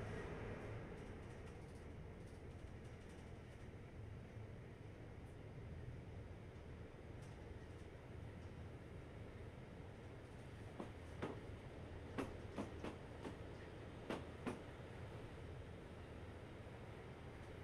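Steady low rumble of a train rolling along rails in Train Life: A Railway Simulator, a passenger and mail run from London to Calais, with a few sharp clicks and clanks near the end.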